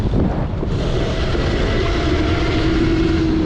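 72-volt Razor electric bike climbing a sand hill, a loud continuous motor whine rising in pitch under heavy wind buffeting on the microphone.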